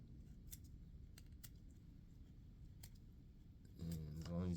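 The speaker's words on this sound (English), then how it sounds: "I'm pinching what I want, and then I'm snipping." Scissors snipping a pinched bunch of hair for fly tying, several faint sharp clicks close up in a quiet room before a voice starts near the end.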